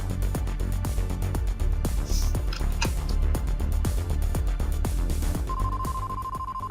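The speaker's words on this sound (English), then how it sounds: "Chase stepped outside to make a phone call." A phone ringtone from the game Red Spider2: Exiled plays loudly over pulsing rhythmic music, a repeating electronic pattern with a steady high tone appearing toward the end.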